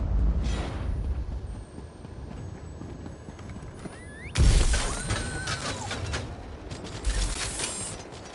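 Hooves clatter, then a horse whinnies loudly amid a burst of crashing sound effects in The Elder Scrolls Online, followed by more hoofbeats and clatter.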